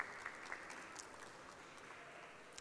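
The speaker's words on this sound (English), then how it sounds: "Can we have a round of applause for her?" Applause from an audience at a magic show, a steady wash of clapping that stays fairly faint and even throughout, with no voices on top.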